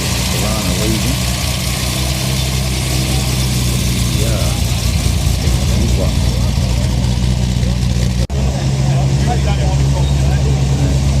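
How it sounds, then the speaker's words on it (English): A Holden Torana's engine rumbles steadily nearby as the car moves off, a continuous low drone with traffic noise and people talking over it. "Torana leaving."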